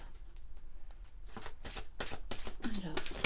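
Oracle Cosmique soul activation oracle cards are shuffled close by, a run of quick papery riffles that grows louder after a quiet start, with a voice coming in at the end.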